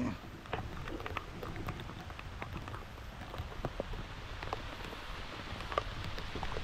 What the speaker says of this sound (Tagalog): Bigla pong umulan.